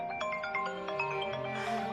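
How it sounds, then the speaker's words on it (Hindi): A mobile phone rings with a repeating electronic ringtone melody, steady and moderately loud, announcing an incoming call indoors. "सलमान भाई का फोन आ रहा है"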